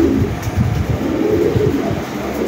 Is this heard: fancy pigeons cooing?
yes